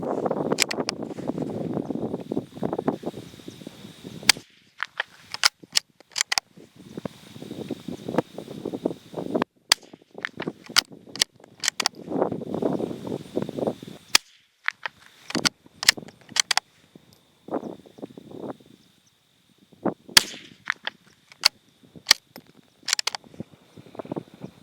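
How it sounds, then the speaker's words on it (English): Federal Champion .22 rifle shots fired at a 100-yard target come as sharp, loud cracks spaced a few seconds apart, some in quick pairs, over light wind and rustling between shots. "Here's another attempt at 100 yards, 10 shots once again"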